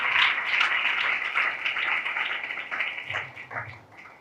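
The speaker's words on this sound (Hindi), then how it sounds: "आए हम जोरदार तालियां बजाएं उस खुदा के लिए" A church congregation claps and applauds together, a dense, steady wash of hands that is loud at first and tapers slightly toward the end, with faint voices mixed in.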